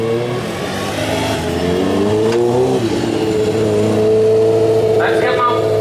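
A 1,200-pound modified lawn tractor at a pulling competition revs hard, its engine note climbing and holding loud and close, with an announcer's voice running over the roar.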